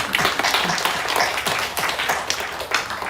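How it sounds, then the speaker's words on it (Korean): A church congregation at an afternoon service claps together in a brief round of applause, with dense, fairly loud hand claps that come in quick uneven bursts and no talking over them. "박수 한번 해봅시다"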